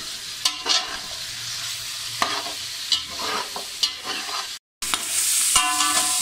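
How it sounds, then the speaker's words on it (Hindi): Chicken pieces for biryani frying in hot oil: a constant close sizzle broken by scraping stirs of a utensil in the pan, with a short dropout near the end before the frying hiss returns. "5 मिनट फ्राई करने के बाद मेरी बोटी हो गई है लाल।"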